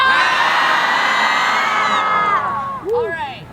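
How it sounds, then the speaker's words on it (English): A crowd of people scream together at once in a loud, sustained group yell lasting about three seconds, then trailing off, with one voice rising higher near the end. "On the count of 3, let's all scream."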